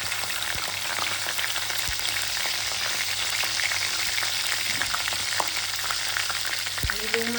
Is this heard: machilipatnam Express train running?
no